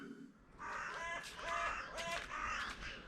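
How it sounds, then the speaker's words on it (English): Crows caw repeatedly in a garden, several harsh calls in quick succession at moderate distance, over a steady outdoor background with no talking. "Oh, we've got the crows joining in."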